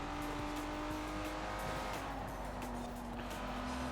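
A car races in the video game Forza Horizon 4, its engine droning steadily over the continuous rumble of driving, without speech.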